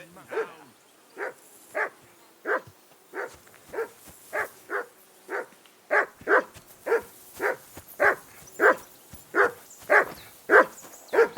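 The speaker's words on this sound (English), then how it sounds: "Be quiet, you flea-bitten hound." A dog in the video game Kingdom Come Deliverance II barks in a steady, evenly spaced series of about seventeen sharp yelps with faint whimpering tones, growing a little louder toward the end.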